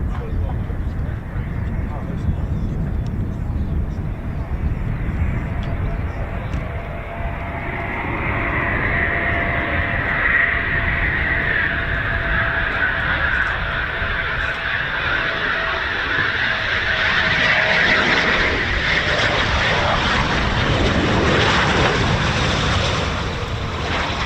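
Eurofighter Typhoon FGR4 jet at RAF Coningsby: a loud, broad roar that holds steady and builds in intensity over about twenty seconds, with heavy wind noise on the microphone.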